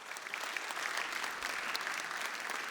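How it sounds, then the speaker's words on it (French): Audience applause fills an award ceremony at a regional innovation challenge final, steady and dense from start to finish with no voices over it. "Encore vos applaudissements, s'il vous plaît."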